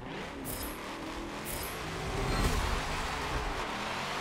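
A car engine in Forza Horizon 4, a Nissan S14 at the start of a Bounty Hunter event on Maple Valley reversed, idling and revving louder partway through over a steady background roar.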